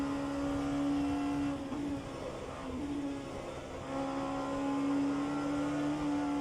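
A GTE race car in the rFactor 2 racing game at Sebring screams along in a Le Mans Virtual Series race, a loud, sustained engine drone with slight pitch dips and swells as it passes.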